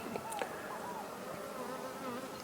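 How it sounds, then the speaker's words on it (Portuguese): A wasp buzzing steadily close by among stingless bee hives at a Brazilian meliponary, a continuous droning hum with wavering pitch and no voices. "Ó, a vespa está se mexendo."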